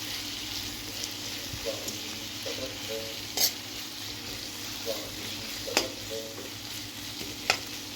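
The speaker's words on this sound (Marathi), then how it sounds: "आता छान हे मसाले आपण मिक्स करून घेऊया।" Capsicum fries in a pan as garam masala and salt are stirred in, a constant sizzle overlaid with rhythmic spoon scraping and a few sharp clinks against the pan.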